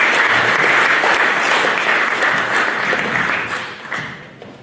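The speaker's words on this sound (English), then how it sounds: "Let's give our staff a round of applause as they exit the stage." Applause from an audience at a high school freshman and sophomore orientation as school staff leave the stage, a loud dense crowd clapping that holds steady and then thins and fades toward the end.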